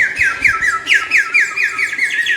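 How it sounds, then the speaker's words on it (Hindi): A toy brought from a village home lets out a rapid run of shrill, warbling whistles, a quick bird-like chirping pattern repeating steadily and loudly with no voices over it. "खिलौना लेके आया, तो उसके अंदर से ना सीटियाँ बजती हैं"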